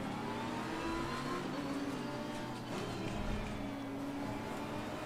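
Bentley race car engine in Assetto Corsa Competizione at Kyalami, a steady, continuous high-revving drone with shifting engine tones, loud and close throughout.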